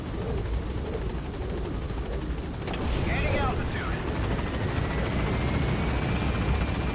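Helicopter rotor blades spinning in a Metal Gear Solid V cutscene, a loud, continuous rhythmic thudding chop close by, with other game sounds over it.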